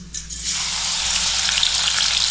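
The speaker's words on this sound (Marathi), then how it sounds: "मग तेल तापल्यानंतर लसूण घालायची" Crushed garlic hits hot oil in a home kitchen pan, bursting into a loud, steady sizzle that starts abruptly and holds continuously, close and alone without talk.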